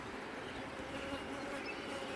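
Honeybees buzzing at a swarm hive during a morning inspection: a dense, continuous hum with a few faint higher whines drifting through, steady and close throughout.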